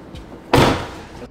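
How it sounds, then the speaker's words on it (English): A single solid Tesla car door thud, close and fairly loud, followed by a brief fading rattle against a steady background hum. "Okay, now let's close the door."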